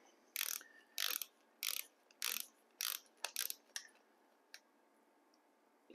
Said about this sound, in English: I can feel a torque wrench click.